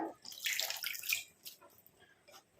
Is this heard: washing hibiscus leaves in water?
yes